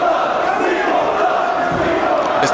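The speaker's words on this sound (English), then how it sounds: "As the crowd are already chanting, "We want blood," before the match has even begun." A dense wrestling crowd at an FWA British Uprising show chants "We want blood" before the match, a loud continuous roar of massed voices filling the whole stretch.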